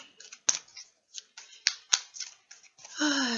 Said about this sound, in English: I'm just going to go ahead and shuffle until I get about like 3 cards.